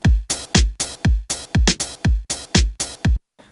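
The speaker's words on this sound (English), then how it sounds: "to a snare that sounds like this" Snare drum with saturation added at 300, 2500 and 7500 Hz, struck in a steady repeating pattern of about thirteen bright, crunchy hits with full bodies and fast decays, heard alone before a brief silence at the end.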